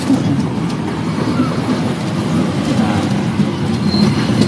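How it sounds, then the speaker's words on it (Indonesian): A Garut–Cibatuan local passenger train passes close by with a continuous loud rumble of rolling wheels and rail noise throughout. "ini dia KA lokal Garut Cibatuan"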